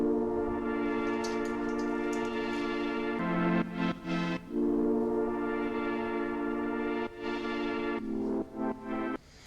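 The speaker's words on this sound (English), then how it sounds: "I have this main synth right here." Sustained electronic synth playing chords in a music production session, with a kick drum thumping underneath and briefly making the pad dip at a few points; steady, fairly loud, with no talking.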